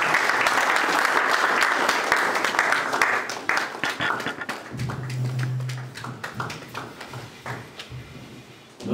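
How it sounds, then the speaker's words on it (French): Warm, sustained applause from an assembly welcoming an honourable provincial official, dense and loud at first, then breaking into scattered individual claps with a low hum beneath as it dies away. "avec vos chaleureux applaudissements"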